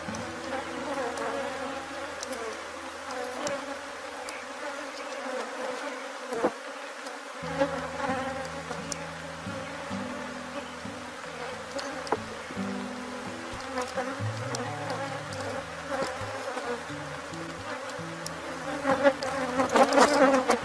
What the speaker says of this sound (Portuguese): O enxame ele começou um pouco agressivo